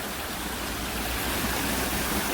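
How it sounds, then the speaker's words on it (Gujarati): Water rushing hard over rocks at a farmhouse, a dense, continuous roar of flow, close and even throughout with no voices. "જોઈ લો મિત્રો, પાણી ચાલુ થઈ ગયું છે ધમધોકાર."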